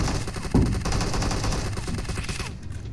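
Rapid automatic gunfire crackles in the battle game PUBG Mobile, a dense, fast burst of shots continuing for a few seconds before cutting off abruptly near the end.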